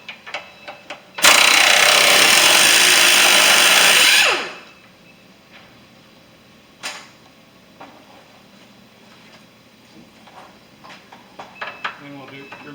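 Impact or power tool undoing 14 mm bolts on the front engine mount of a 2001 Toyota Celica, a loud continuous burst of about three seconds followed by a short rattle and quieter clinks of tools in a garage.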